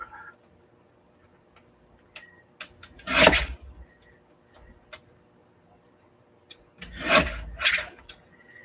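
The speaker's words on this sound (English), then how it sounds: "I'm going to trim it down a little bit because it's a little bit wider than the pocket." Paper being trimmed down to fit a journal pocket: two separate scraping, rasping cuts, each lasting under a second, heard up close over a quiet background with a few small ticks and taps between them.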